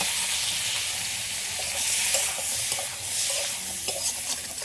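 Flat beans fry and are stirred in a wok, a dense hissing sizzle with repeated scraping and clatter from the spatula, close and steady, with no talking.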